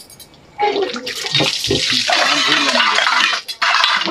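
Dishes washed under running water at a tap, a loud close gush of water that stops briefly and resumes, with a short spoken remark at the start.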